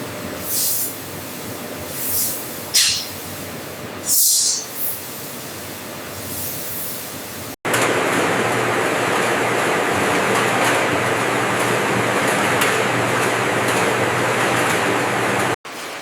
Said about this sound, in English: High-frequency vibration separates non-biological debris, ensuring the larvae mass progresses cleaner and more uniform toward feed-grade standards.